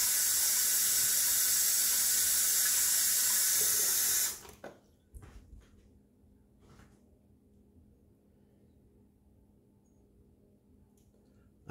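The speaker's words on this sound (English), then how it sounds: "I'm gonna put some hot water in the sink." Hot water gushes from a tap into a sink for about four seconds, then shuts off, leaving faint clinks and quiet room noise.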